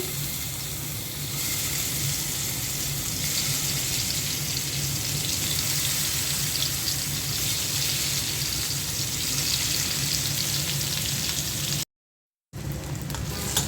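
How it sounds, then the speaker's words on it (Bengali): Turmeric and chili coated rohu fish pieces frying in a pan, a loud, dense, continuous sizzle close by, unbroken apart from one brief gap near the end. "রুই মাছটা ভেজে তারপর রান্না করব। রুই মাছটা দিয়ে দিচ্ছি।"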